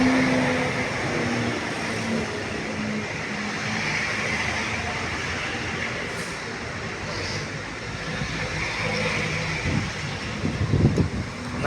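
Strong wind roars and buffets continuously, with rumbling gusts swelling toward the end and a faint voice now and then beneath it, at a building fire.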